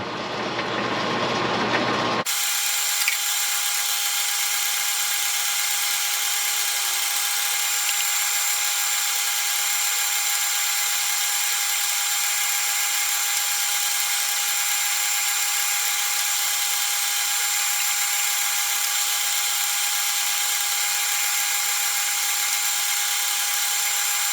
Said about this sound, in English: We're going to run a pilot drill.